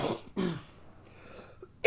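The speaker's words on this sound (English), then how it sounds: "if you hear my ass coughing, sorry about that" Two close, rough coughs in quick succession, followed by quiet and then a sharp burst at the very end.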